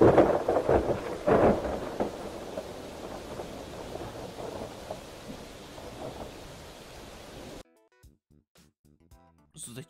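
Rain pours steadily in an animated forest scene while loud thunder rumbles and cracks near the start, the storm fading gradually before cutting to near silence with faint clicks at the end.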